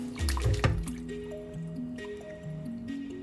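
Water poured into a pot of mutton biryani rice, a wet splashing pour with dripping and squishing that fades to a gentle trickle over a steady hum.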